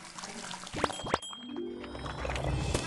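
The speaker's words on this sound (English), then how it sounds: "Drag the water hose over the pot." A cartoon water hose waters a potted plant in the Crayola Create and Play game: a short, soft pouring and trickling sound with a couple of quick bubbly swoops, heard alone for under three seconds.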